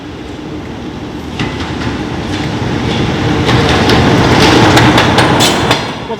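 A train rumbles past at close range on a railway in South Gloucestershire, its steady roar building with rhythmic wheel clatter over the rails, then easing slightly near the end.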